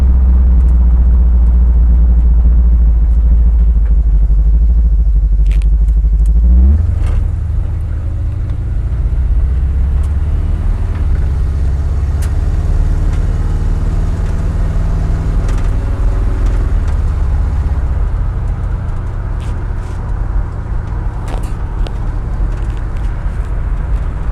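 A 1976 Pontiac Firebird engine rumbles loud and close, a heavy low idle that shifts into a steadier running drone as the car pulls away on a test drive, with sparse clicks and no talk.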